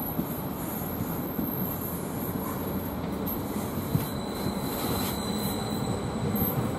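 A Greater Anglia standard express train moves through Norwich station with a steady rumble and rail noise, faint wheel squeal riding above it, continuous and fairly close throughout.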